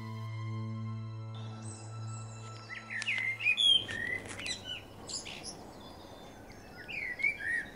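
A blackbird sings in brief, clear whistled phrases that grow busier after a few seconds, set against a low steady hum that gives way to soft outdoor ambience.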